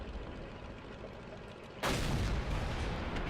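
A tank gun fires once in World of Tanks, a sudden loud broadband blast about halfway through that jumps above the steady battle ambience before it and leaves a sustained roar behind.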